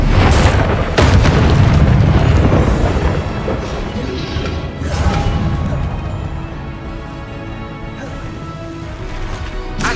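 Confringo blasting spells erupting in Hogwarts Legacy, a heavy booming explosion that rolls on with crackling debris and a long rumbling tail, loud and dense throughout, with a voice faintly present underneath.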